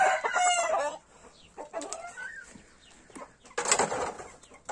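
A rooster, excited and restless among poultry, crows loudly and clucks close by, with bursts at the start and end and quieter clucking between.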